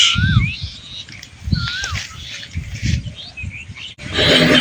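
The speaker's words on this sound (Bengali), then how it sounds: "কত সুন্দর কোকিলের ডাক আহা কি শান্তি লাগে" A koel calls outdoors under a cloudy sky near a field where cattle graze, a few clear rising whistled notes at moderate distance over wind and low rustling noise.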